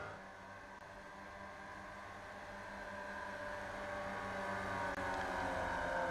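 Race cars in the iRacing video game pull into the pits, a rising, whining engine drone that swells steadily louder over several seconds without any voices.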